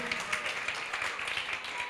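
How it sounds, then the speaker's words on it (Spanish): A church congregation clapping together, a steady rhythmic patter of many hands, moderately loud and brief, with voices mixed in. "Vamos, den un aplauso"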